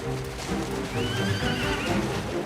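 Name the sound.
war horses of a mounted German reserve company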